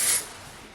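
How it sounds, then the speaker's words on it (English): Texture spray hisses onto hair in a single short, close burst that fades fast into quiet room tone. "I just add texture spray throughout and it gives it like lots of body and volume"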